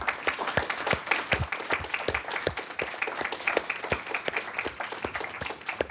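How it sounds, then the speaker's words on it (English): Steady audience applause at a diplomacy conference, many hands clapping in a dense, even wash with individual claps standing out close by, sustained throughout. "You can clap."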